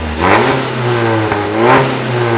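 A Porsche 981 Cayman engine revs up and down close by, its tone climbing in two loud surges and settling between them, with no voices.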